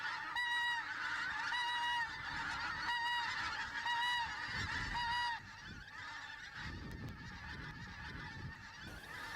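Geese honking in Aberdeenshire during inland goose shooting, a loud overlapping chorus of repeated nasal honks close by, thinning after a few seconds to a few scattered calls over rustling background noise.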